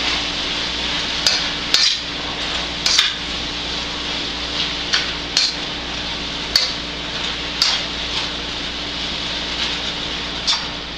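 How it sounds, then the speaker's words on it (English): A spoon knocks against a pot of sausage and sauerkraut seasoned with salt and pepper, sharp taps repeating irregularly every second or so over a steady low hum. "A little pepper. Stir that up a little bit"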